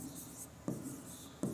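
Pen writing by hand on a surface during an organic chemistry lesson, two short scratchy strokes standing out against a quiet, steady room hiss, close and fairly faint.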